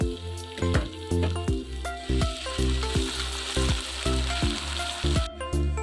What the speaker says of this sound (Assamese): একেখিনি তেলতে এয়া দেখিছে পিঁয়াজ দি দিলোঁ অঁ পিছত এয়া দেখিছে খুন্দি লোৱা আদা ৰচুন